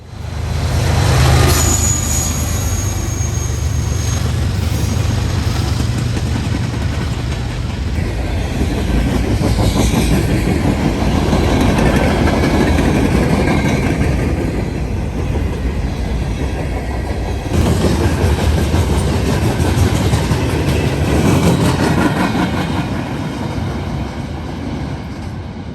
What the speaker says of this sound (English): midway or towards the end of the train, 179 has another Norfolk Southern DPU, this one also an ES44DC, like the second unit on the head end